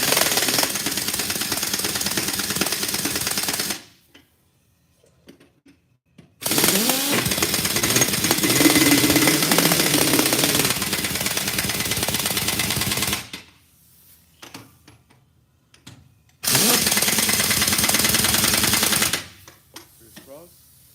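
An impact wrench tightening car tire lug nuts rattles loudly in three long hammering bursts of about three to six seconds each, separated by quiet gaps.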